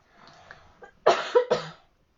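A child coughs twice, loud and close, after some faint background noise, with a brief throat-clearing sound.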